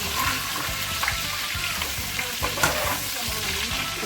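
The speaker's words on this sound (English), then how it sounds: "See how it's frying?" Goat meat browning in a hot pan for Haitian stewed goat, sizzling steadily with a close, crackling fry and a few soft stirring scrapes.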